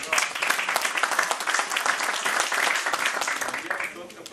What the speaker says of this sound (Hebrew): מגיע עוד כפיים גם למר רפיק חלבי